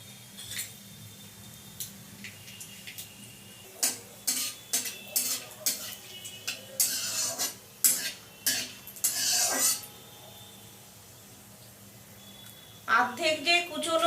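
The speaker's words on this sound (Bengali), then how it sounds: "এবারে সর্ষের তেল দিয়ে দিচ্ছি এলাচ আর দারচিনি আর তেজপাতা একসাথে দিয়ে দিলাম" Whole spices — cardamom, cinnamon and bay leaves — dropped into hot mustard oil in a pan, followed by bursts of stirring and clinking utensil scrapes, close and intermittent, with brief quieter gaps.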